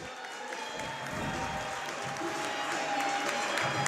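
A steady wash of clapping from a large audience at a high school wrestling senior recognition, sustained and fairly loud throughout with a faint murmur of the crowd beneath.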